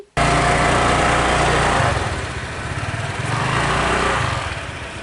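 A borrowed hostel scooter's small engine drones steadily and loudly while riding near Chiang Rai, Thailand, starting abruptly and holding a buzzy, slightly wavering pitch with no talk.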